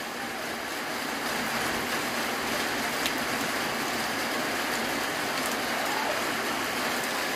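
Steady light rain patters continuously in the Metapán area of El Salvador, a dense even hiss of drops on surfaces with no voices.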